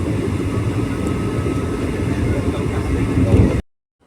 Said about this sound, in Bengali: ট্রেন তার নিজস্ব গতিতে ছুটতে শুরু করেছে